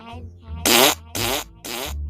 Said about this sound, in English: My farts